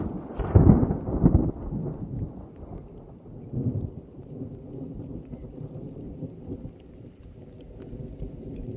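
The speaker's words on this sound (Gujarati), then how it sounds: "બહુ જોરદાર વીજળી થાય." Loud thunder rumbles early during an unseasonal thunderstorm over a farm, then fades into a steady wash of rain with a second, softer roll midway.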